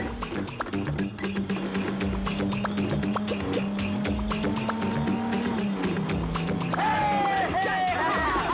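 A car engine revs and drives off in a Tamil film scene, with tire squeal and a steady motor hum throughout, mixed with music and voices over the top.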